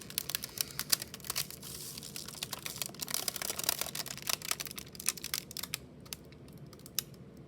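Balloons chilled in liquid nitrogen crinkle and crackle as they warm, a dense run of sharp close ticks and snaps that thins out toward the end, with no talking.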